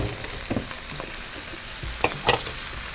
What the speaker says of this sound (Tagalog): Okay, igisa nating mabuti.